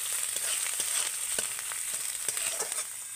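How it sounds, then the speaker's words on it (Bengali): Ground spices, coriander powder among them, fry in a hot pan with a steady close sizzle and soft stirring scrapes throughout, with no voices. "এবার আমি মশলাগুলো ভালো করে একটু নেড়ে নেব।"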